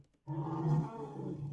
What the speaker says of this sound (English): A lot of the T-Rex sounds in the original Jurassic Park were made from an elephant